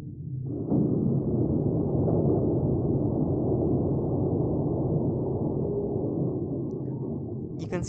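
A slow-motion car crash in the BeamNG.drive video game, with a pickup truck striking a trailer, produces a sudden heavy impact followed by a long, loud, low rumbling roar that holds steady to the end, with a faint rattle near the close.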